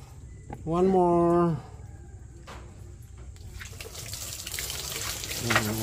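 Water poured from a dipper over someone being bathed with shampoo, heard as a sustained splashing wash that builds toward the end, with a voice calling out briefly before it.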